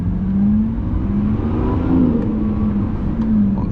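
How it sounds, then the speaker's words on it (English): Lamborghini Revuelto V12 engine revving while driving on the road, a loud, steady, close mechanical roar whose pitch rises and falls in smooth swells, with no talking over it. "And now you hear the engine revving."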